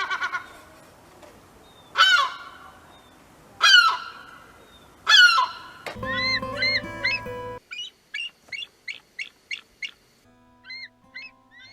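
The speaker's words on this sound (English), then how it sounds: "That's a seagull. That's what that sound is." Seagull cries in the Fire Emblem Engage video game: three loud, separate calls spaced about two seconds apart, followed by a stretch of game sounds and a series of short, quick chirping cries.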